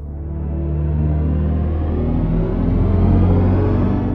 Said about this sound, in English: With Hypersonics, we do have different driving sounds depending on the experience.